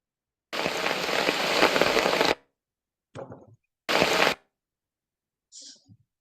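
Heavy rain falls in an Annamite mountain forest, heard as several abrupt bursts of dense hiss separated by silence, the last one short and faint.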